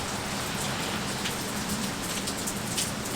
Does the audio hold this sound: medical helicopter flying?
no